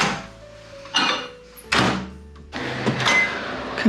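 A microwave oven door thunks shut, followed by button presses and the oven starting up with a steady hum, while a mug cake mixture waits inside; several distinct knocks and a continuous running sound fill the last part.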